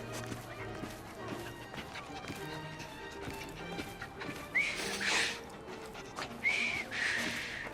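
A character whistles in Assassin's Creed Syndicate, two short rising whistle phrases a couple of seconds apart, close and clear over street ambience with hoof clatter and footsteps.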